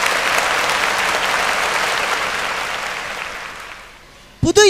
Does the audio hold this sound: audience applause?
yes